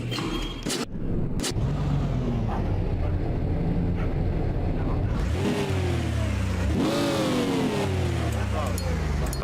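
VW Gol GTI with an AP engine revs while driving, the engine note climbing in repeated rising sweeps over steady road rumble. Someone talks over it near the start.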